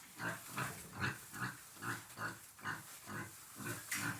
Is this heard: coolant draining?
no